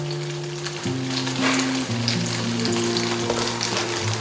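Tofu frying in a pan gives a steady, close, crackling sizzle throughout, with a sustained tonal hum running underneath and no talking.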